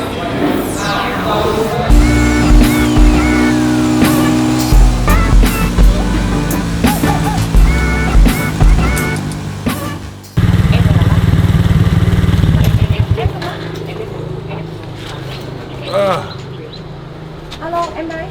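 A bus travels a long road trip between Hanoi and Ha Giang with its engine droning loudly and steadily, gears and rattles throughout, a sudden shift in tone midway, and voices occasionally heard over it.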